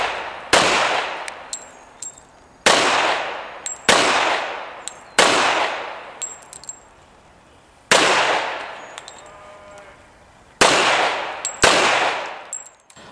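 Handgun shots ring out at an outdoor IDPA defensive shooting stage, loud sharp cracks mostly in pairs spaced a couple of seconds apart, each followed by a short echoing decay.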